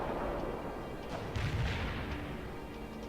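Artillery fire in the video game World in Conflict, a muffled distant boom and rumble rising briefly out of a steady low battlefield din.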